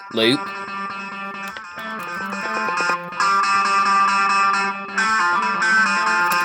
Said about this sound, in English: I've got just a normal guitar loop